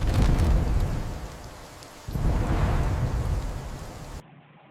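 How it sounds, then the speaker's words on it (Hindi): A cartoon sound effect of a strong storm: a loud, dense roar of heavy rain with rumbling thunder, swelling in two broad surges before cutting abruptly to quieter rain near the end. "एक दिन तेज आंधी आती है।"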